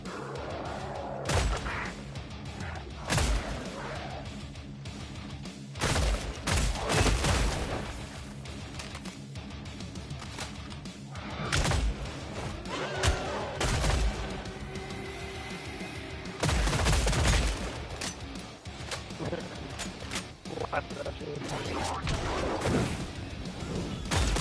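Gunfire in the video game Killing Floor 3 crackles in dense rapid bursts and heavy crashing blasts, loud and near, with near-continuous shooting over a rumbling background.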